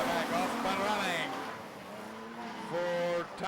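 Super Street race cars roar through the hairpin at Gympie Speedway, engines rising and falling as they pass, while a commentator talks over them.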